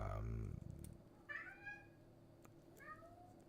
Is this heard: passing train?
no